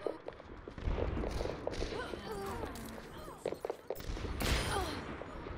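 Gunfire in a video game crackles in scattered bursts through a busy, cluttered mix, with other game effects and faint voices underneath.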